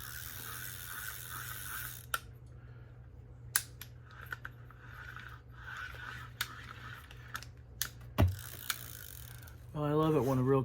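A fishing reel crank ratchets in short separate bursts of clicking, sharp mechanical ticks spaced apart against a quiet room hum, followed at the end by a brief voice.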